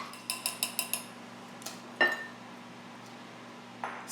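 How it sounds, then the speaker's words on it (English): A whisk taps and clinks against a bowl of muffin batter, five quick rhythmic strokes, then a sharper clink and a few scattered taps, faint and close, with no talk. "I'm going to give this one last little whisk."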